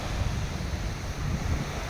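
Steady wind roars over rolling surf at a breezy beach area near Naic, Cavite, a continuous low rumble of waves and gusts with no voices.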